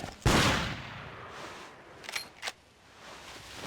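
A single rifle shot rings out in the hunting game Cabela's Big Game Hunter 2005 in a desert setting, one sharp crack followed by a decaying tail and two faint clicks afterward, with no talking.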